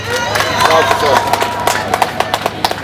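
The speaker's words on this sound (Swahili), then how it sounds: "Tujipigie makofi." An audience at a school gathering claps for itself, scattered hand claps rising under background crowd noise and then thinning to a few sharp individual claps.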